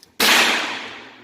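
A single sharp gunshot from a Ruger LCP2 pistol at a shooting range, loud and close, with an abrupt crack followed by a short echoing decay.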